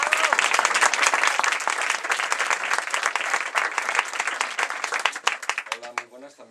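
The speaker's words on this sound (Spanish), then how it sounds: "Os pido un aplauso para él" Audience applause at a book-night event for a storyteller, loud sustained clapping from a crowd that thins out toward the end as a voice begins speaking.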